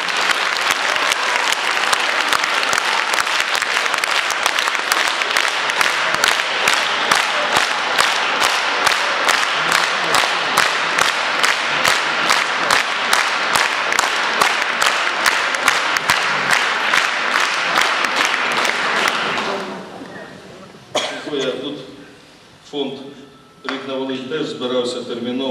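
Audience giving an ovation, sustained loud, dense applause with rhythmic synchronized clapping for about twenty seconds before it fades out and speech takes over.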